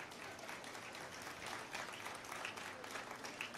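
Faint, steady audience clapping at a Congress party manifesto speech, a dense patter of many hands heard from a distance for several seconds.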